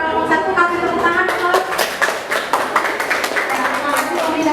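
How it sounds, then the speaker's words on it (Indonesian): Classroom students applauding a group of classmates after their presentation, brisk close-up clapping with some voices underneath. "Kasih tepuk tangan."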